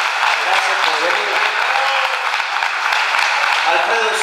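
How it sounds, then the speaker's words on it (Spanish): Steady audience applause at a folk music concert, a dense wash of clapping throughout, with a voice faintly present beneath it. "Fuerte el aplauso."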